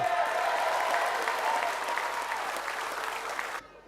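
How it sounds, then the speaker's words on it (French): A crowd at a political party's presentation of National Assembly candidates breaks into dense, sustained applause that gradually fades before cutting off abruptly. "Merci beaucoup pour l'acclamation"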